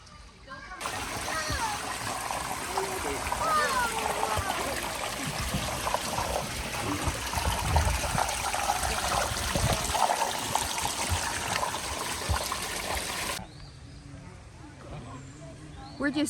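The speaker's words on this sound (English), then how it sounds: "wooden trays, and then water will run through it." Water pours steadily through wooden gem-mining sluice trays outdoors at a mountain trout farm in Sevierville, Tennessee, a constant close rushing splash and trickle that stops abruptly near the end, with people talking faintly over it.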